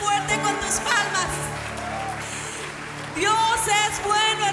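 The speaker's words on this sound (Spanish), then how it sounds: "dáselo fuerte con tus palmas." A church congregation claps hands, a continuous crowd applause that swells loud at the end, mixed with voices and music.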